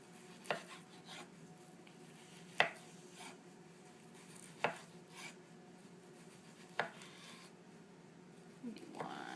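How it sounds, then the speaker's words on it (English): A knife slicing food diagonally on a board, not too thick and not too thin, gives four sharp, separate cuts spaced about two seconds apart over a quiet kitchen background, with a softer clatter near the end. "we're going to just cut it diagonal. Not so thick, not too thin."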